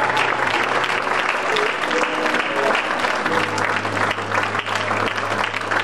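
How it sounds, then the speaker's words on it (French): An audience at a church gathering in Lyon applauds a brother, dense sustained clapping filling the room with a low tonal hum underneath, loud and continuous. "Est-ce qu'on peut pas acclamer le frère?"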